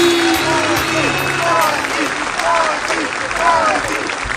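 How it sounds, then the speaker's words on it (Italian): A wedding crowd applauds the newlyweds steadily, the clapping dense and continuous, with voices and cheers mixed in throughout. "Ancora un applauso agli sposi"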